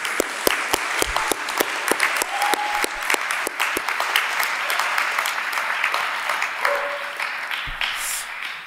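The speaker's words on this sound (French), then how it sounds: "Un tonnerre d'applaudissements, s'il vous plaît." An audience at a French eloquence trial applauds steadily throughout, many hands clapping in a dense continuous wash with a few louder claps close by.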